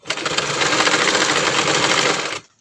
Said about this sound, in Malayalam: ഇതിൻ്റെ ഇങ്ങനെ വക്കത്തു കൂടെ ഇങ്ങനെ തയ്ച്ചു കൊടുക്കുക, ഈ ഓപ്പണിൻ്റെ ഇതിൽ കൂടെ